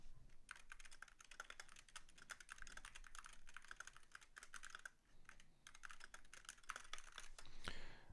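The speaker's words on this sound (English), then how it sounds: "let's start typing on the keyboard" Quick, continuous clicking of MacBook keys, a steady run of light taps with a brief pause midway, close and fairly quiet, with no voices.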